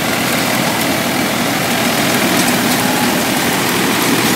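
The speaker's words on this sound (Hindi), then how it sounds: "न्यू होलैंड 4710 तीन सिलेंडर ट्रैक्टर है।" A New Holland 4710 three-cylinder tractor engine runs steadily while pulling a ripper, a loud, continuous low diesel drone with broadband rumble and vibration throughout, no talk.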